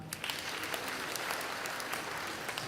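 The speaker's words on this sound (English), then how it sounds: "Kindly give them a better clap" A conference audience at a national wage bill event in Nairobi claps steadily, a dense, even wash of applause filling the hall for a few seconds without pause.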